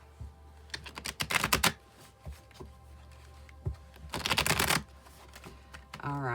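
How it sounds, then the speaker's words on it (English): A tarot card deck shuffled by hand in two bursts of rapid, clattering card riffles, each lasting under a second, close and fairly loud, with a brief voice at the very end. "I'll shuffle till the deck feels ready"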